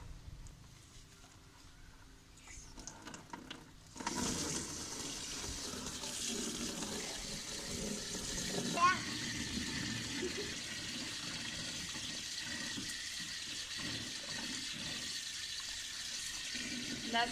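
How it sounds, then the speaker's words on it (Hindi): Tap water runs steadily as soil-covered garlic bulbs are washed under it, a continuous splashing rush starting after a few seconds of quieter handling, faint and close, with indistinct talk in the background. "लहसुन को वीवर्स मिट्टी बहुत लगी हुई है, इसलिए हम इसे धो रहे हैं।"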